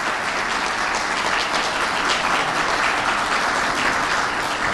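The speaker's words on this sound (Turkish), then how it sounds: "onlar için sizden kuvvetli bir alkış istiyorum" Audience in a hall giving strong applause for students at an award event in Gaziantep, a loud, even wash of many hands clapping that continues steadily throughout without pause.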